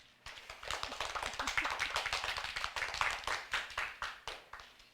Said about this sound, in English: So now it's time to clap your hands.